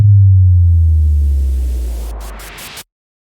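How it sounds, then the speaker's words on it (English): A future bass synth riser built from noise with autopan LFO movement and volume automation swells loudly over a deep low tone, its hiss spreading upward before cutting off abruptly after a few stuttering gaps. "I quickly made this riser from the noise"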